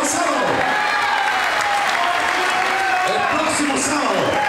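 Audience applause at the presentation of a football club's new official 2017 shirt and squad, a steady crowd clapping throughout with cheering mixed in.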